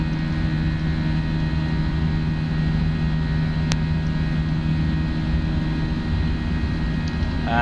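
Steady, loud jet engine roar from an FSLabs Airbus A319 in British Airways colours at climb power, simulated in Prepar3D, a constant broadband drone with a low hum throughout and no speech over it.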